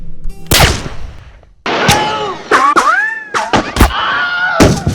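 Gunshots in a Lone Ranger film scene ring out as a loud opening crack, then a rapid series of close, echoing shots and ricochet-like whines over several seconds.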